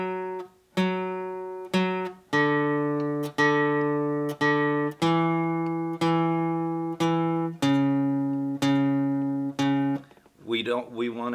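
Guitar notes of a riff played with fingers left on the strings so each note rings into the next, about eleven sustained plucks in steady rhythm, close and clear, ending in a brief burst of speech.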